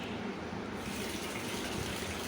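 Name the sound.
tap water filling a bucket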